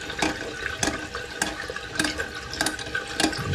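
Water steadily rushing and trickling into a toilet tank, a continuous close splashing flow with small gurgles and no talking.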